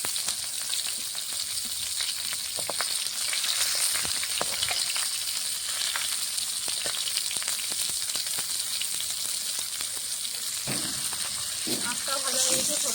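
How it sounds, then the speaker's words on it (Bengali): Dried red chillies and nigella seeds sizzle loudly in hot oil left from frying rohu fish, a dense, steady crackling hiss close by, with occasional stirring clinks. "ফোড়ন দিয়ে দেবো এই তেলে শুকনো লঙ্কা,"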